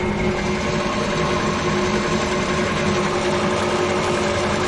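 An EGK-80/100 extruder runs while extruding corn, a loud continuous mechanical whine and hum holding steady with a constant rumbling drone and no pauses.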